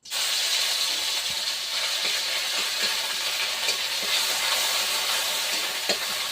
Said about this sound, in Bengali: তো প্রথমে তেলে আমি এই পেঁয়াজ বাটাটা দিয়ে দেবো।